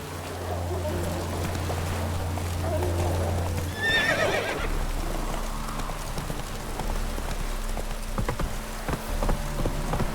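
A horse in The Witcher 3 gallops with rhythmic clip-clopping hooves under a steady low game drone. A brief neigh cuts in near the middle, and faint voices are heard.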